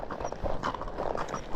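Horses' hooves clip-clopping across a big parking area on a trail ride, several close irregular hoof strikes in quick succession, no talk.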